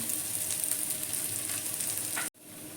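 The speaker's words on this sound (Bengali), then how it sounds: "এবারে পেঁয়াজটা আমি ভেজে নেব" Onions frying in hot oil in a pan, a steady close sizzle with soft stirring scrapes, cut off abruptly near the end.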